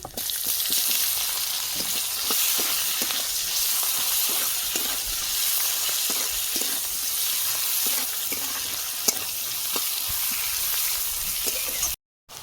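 Chopped onion and four dried red chillies fry in hot oil with a strong, even sizzle and scattered crackles and spoon stirs, close and constant before a sudden brief cut to silence at the end.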